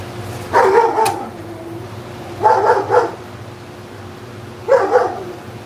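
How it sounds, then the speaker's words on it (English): A dog barks in three short bursts of two or three woofs each, spaced a couple of seconds apart, fairly close over a low background hum. "That's the dog."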